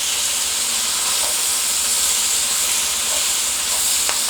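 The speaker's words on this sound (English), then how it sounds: "So let's allow the onions to cook down" Onions fry in a pot with a loud, steady, bright sizzle that holds evenly throughout, with occasional faint pops and stirring and no talking.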